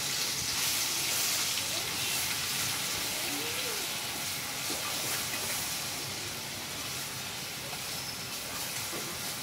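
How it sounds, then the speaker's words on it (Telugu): Onion chilli masala frying in oil over a medium flame while bitter gourd is cooked, a steady loud hiss and sizzle that fills the whole stretch without any talking. "అదే ఆయిల్లో ఈ ఉల్లికారం అయితే వేసుకొని మీడియం ఫ్లేమ్లో పెట్టి దీన్నంతా ఫ్రై చేసుకోవాలండి"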